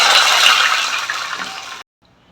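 Water pours in a loud, rushing stream into a pan of dhokla batter ingredients for almost two seconds, then stops abruptly.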